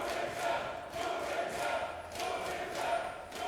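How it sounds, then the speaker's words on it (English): Crowd cheering in an esports arena during a League of Legends EU LCS match, a moderate, steady roar of fans with rising and falling swells throughout. "OG fighting back with fan cheers of their own"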